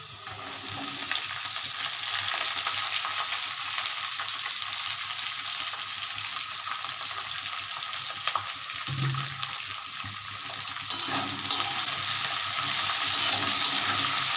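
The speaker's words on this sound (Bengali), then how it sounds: "আলুটা আস্তে আস্তে ভাজা হচ্ছে, ব্রাউন ব্রাউন কালার হচ্ছে" Potatoes browning in a pan with onions being added, a continuous bright sizzling hiss close by with occasional stirring clinks, fairly loud and steady, no speech.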